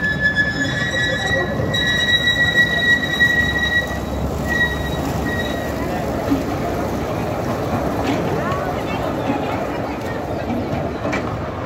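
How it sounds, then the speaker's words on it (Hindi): A train slowly rolls in at CV Garden in Kota, with steady loud wheel rumble and high metallic wheel squeals near the start, heard close by throughout under faint background voices. "धीरे धीरे ट्रेन आ रही है।"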